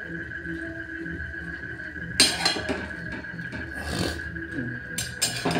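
A lid is set over a cooking pot: metallic clinks and a clattering scrape against a steady kitchen hum, with a few more clinks afterward.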